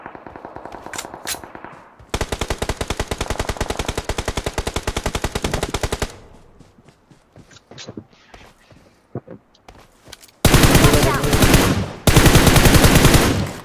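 Automatic gunfire in a battle royale shooter, loud sustained bursts of rapid shots, a long volley, then scattered single shots and quiet, then two more heavy close bursts.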